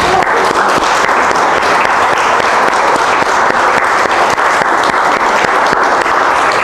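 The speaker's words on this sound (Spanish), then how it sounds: "yo pido un aplauso de verdad" Sustained applause from an audience at an anniversary talk, dense clapping that stays loud and steady throughout with no pause.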